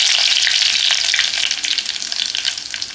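Steady, loud crackling sizzle of curry leaves frying in hot oil, close up with no one speaking.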